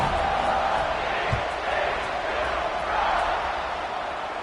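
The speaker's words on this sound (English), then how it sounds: "this crowd is buzzing after that last score" Crowd noise at a college football game hums steadily after a scoring play, a broad continuous buzz of many voices at moderate level, with a broadcast announcer's voice faintly present over it.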